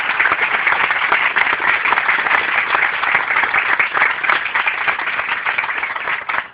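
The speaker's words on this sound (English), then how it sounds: "round of applause for a wonderful job" Sustained audience applause at a Kansas City Chinese American Association gathering, a dense, steady wash of many hands clapping for the full length, loud and even with no talk over it.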